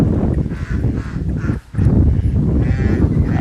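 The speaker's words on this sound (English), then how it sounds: "some ducks over here." A group of ducks on open family land calls out loudly and close by, with overlapping honking quacks that come in a near-continuous stream and break only briefly.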